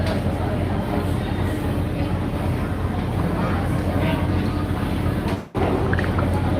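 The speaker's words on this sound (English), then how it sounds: "The engines are fired up." A pull-started boat engine runs steadily as the boat moves, a continuous loud drone mixed with rushing wind. The roar briefly drops out for an instant before resuming.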